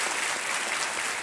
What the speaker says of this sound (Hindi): एक बार फिर इनका जोरदार तालियों के साथ स्वागत